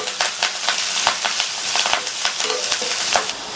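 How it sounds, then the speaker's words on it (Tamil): Onion, garlic and curry leaves sauté in hot oil for a side dish, a close, steady sizzle broken by repeated stirring scrapes. "அடுத்து கறிவேப்பிலை சேர்த்து இந்த வெங்காயம் லைட்டா ஒரே 1 நிமிஷத்துக்கு மட்டும் வதக்கிக்கலாம்."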